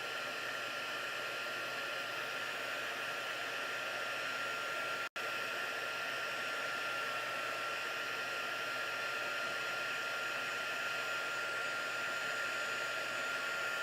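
A handheld heat tool blows steadily on the back of a paper card, a constant loud whooshing roar with one brief cut-out partway through and no talking.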